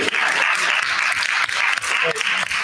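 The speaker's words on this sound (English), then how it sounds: "Go ahead, clap." Audience applause at an evening speaker-series talk on diversity, equity and inclusion, steady and close, filling the whole stretch at full strength with no speech over it.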